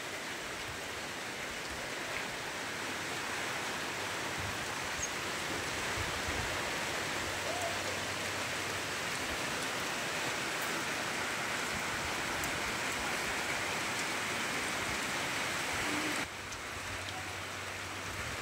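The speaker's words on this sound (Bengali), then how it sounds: "এখন হয়তো হালকা হালকা দেখা যাচ্ছে বৃষ্টি হচ্ছে যে" Steady rain falls through a seasonal storm, a dense, even hiss that holds at the same level throughout and drops slightly near the end, with no voices.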